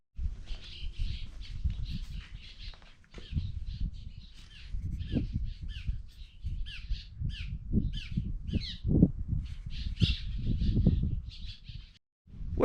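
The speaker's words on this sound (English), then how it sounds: "This little pavilion is infested with birds." Birds squawk and caw in a small roadside pavilion, harsh repeated calls overlapping one another against a steady low background rumble, with no talking.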